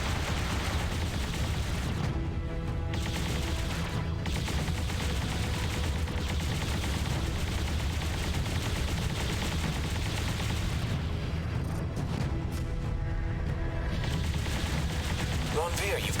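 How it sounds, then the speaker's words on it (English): Main guns firing in the space combat game Freespace 2 (Blue Planet: War in Heaven) make a sustained booming barrage with rumbling blasts and rolling impacts, fairly distant, with voices faintly mixed in. "Engaging with main guns."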